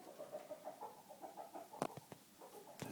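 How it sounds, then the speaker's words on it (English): Chickens cluck softly and repeatedly inside a workshop on a rainy day, quiet and slightly distant, with a few sharp knocks near the end. "Got some company by my chickens."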